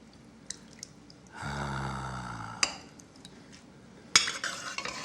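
A spoon stirs a pot of food with pecans, giving a soft scraping swirl for about a second, with scattered clinks and knocks of utensil against pot before and after; no talk.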